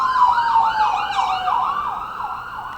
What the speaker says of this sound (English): so we may be interrupted couple times by ambulances